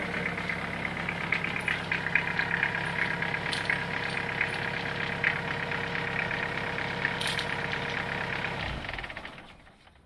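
A 1995 Pajero's 4M40 diesel engine, suspected of a failed cylinder head, idles loudly and steadily with a knocking clatter, then cuts off and fades out near the end.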